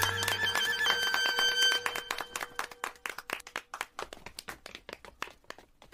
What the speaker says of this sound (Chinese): 各位，掌声送给呱呱豆豆。